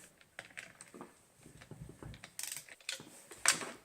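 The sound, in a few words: wrench tightening bike bolt with socket extension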